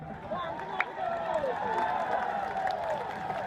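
A rally crowd in Aceh applauds and cheers at a gubernatorial campaign event, a steady wash of clapping and raised voices with some shouts rising above the noise throughout.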